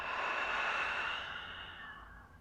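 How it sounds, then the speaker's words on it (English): A single slow open-mouth exhale during a gentle yoga session for the hips, a soft breathy sigh close to the mic that gradually fades over a couple of seconds, with no talking. "Open mouth exhale"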